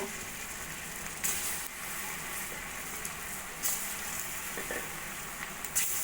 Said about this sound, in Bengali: এদিকে আমাদের কড়াইতে তেলও গরম হয়ে গেছে এবার আমি পকোড়াগুলো ভেজে নেব